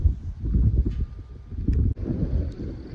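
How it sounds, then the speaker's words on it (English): Gusty wind buffets the microphone in an open garden during fall bed preparation, with rustling and rumbling bursts that rise and drop, fairly close and moderately loud. "Kind of a challenge in the wind, but we'll keep going."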